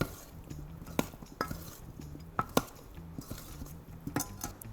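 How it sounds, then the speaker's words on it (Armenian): Potato salad being stirred after a squeeze of lemon juice, a utensil clinking and scraping against a bowl in a quiet kitchen, with a few sharp taps amid soft rustling movement. "Մի հատ խառնեմ։"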